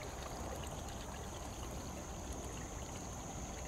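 Water trickles and streams steadily at night at a remote Kanagawa spot, a faint, continuous liquid wash with no voices over it.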